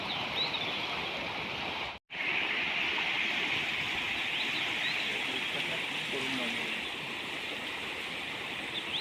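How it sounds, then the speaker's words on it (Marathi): Steady, even hiss of water running across a road, constant and moderately loud with a momentary cutout early on. "एवढा पाऊस आहे रोडवरून पाणी चालून जातं"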